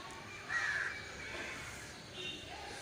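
Crows cawing near trees in the evening, a few faint, distant calls over a quiet background.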